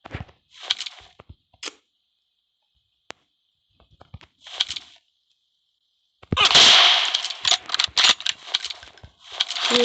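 Rifle shots in a battle royale video game, a Kar98 or M24 bolt-action, ring out as a few sharp isolated cracks early on, followed by a dense loud burst of game action and impacts in the second half.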